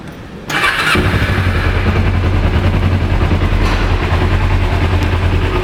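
A carbureted 2007 Kawasaki EX250R Ninja motorcycle cranks briefly and fires up, then settles into a steady, loud, close idle with no talking.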